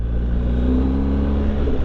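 A BMW R1250 GS HP 2020 motorcycle accelerates under throttle, its boxer engine giving a steady, close, loud low rumble that builds slightly over a couple of seconds, with no voices.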